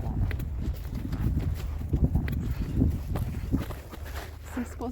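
A horse led at a walk gives a run of soft, uneven hoof clip-clops close by over low rumble, with a person talking at the same time.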